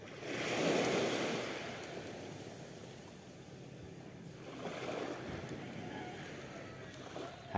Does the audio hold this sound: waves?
yes